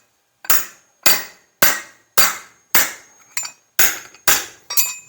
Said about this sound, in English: just start hammering down where you're going to get the contour of the bumper